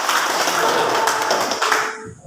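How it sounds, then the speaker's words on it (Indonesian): A school class claps hands together in a PPKn lesson at SMA Negeri 1 Paberiwai, a short burst of dense applause that fades out at the end. "Mari kita tepuk tangan untuk kebersamaan."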